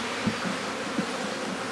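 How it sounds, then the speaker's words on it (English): Agitated honey bees buzz steadily inside an opened hive with the roof removed, a dense continuous drone with a few slightly louder swells, close by and with no voices. "These bees are slightly agitated now"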